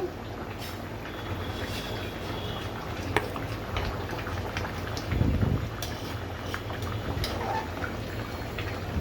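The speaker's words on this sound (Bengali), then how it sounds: "এই পর্যায়ে এসে আমি এখন টমেটোগুলো দিয়ে দিব।" Tomatoes go into a simmering pan of river rohu fish bhuna with broad beans and potato, adding a soft, brief thud partway through over a continuous bubbling, sizzling hiss.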